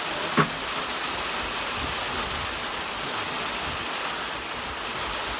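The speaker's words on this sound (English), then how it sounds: "it's pouring right now" Heavy rain pouring outdoors beside a muddy pond, a constant broad hiss of water with one faint click near the start and no talking.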